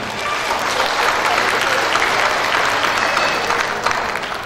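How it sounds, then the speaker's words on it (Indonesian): Sustained audience applause for Bapak Trianto and Bunda Apri at the MGI 2024 recognition day ceremony, a dense wash of many hands clapping steadily throughout at even loudness, with faint crowd murmur. "Berikan aplaus yang mulia untuk Bapak Trianto dan Bunda Apri."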